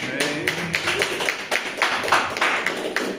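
A church congregation at an Assembleia de Deus service claps for Jesus, with steady rhythmic hand claps repeating in a moderately distant, roomy wash, no talk over them.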